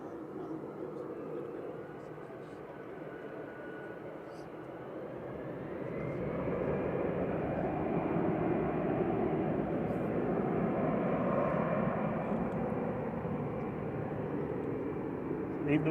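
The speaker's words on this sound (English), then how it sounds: "EasyJet's A319 OE LQE departing to Palma de Mallorca now" An EasyJet Airbus A319 jet departing Manchester Airport, a broad engine roar that swells gradually and holds steady at a moderate distance, without speech.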